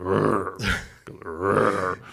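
A Mercedes car gives a low, guttural burp-like sound when it is locked, heard twice in quick succession, close and fairly loud, with no talk over it.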